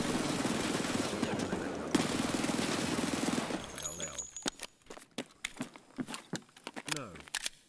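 Glock 18 pistol gunfire in Escape From Tarkov starts as a loud, dense burst of automatic fire and is followed by a string of separate sharp cracks and metallic clicks, with talk heard alongside.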